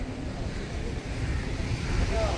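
Waves wash steadily along the crowded Mumbai seafront, a low continuous rumble of surf blended with wind buffeting the microphone, with no clear breaks between swells.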